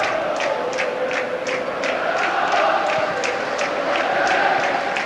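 A football crowd at Murrayfield stadium during Hearts against NK Siroki Brijeg keeps up a loud, continuous roar with rhythmic chanting and claps pulsing regularly through it, heard from a distance.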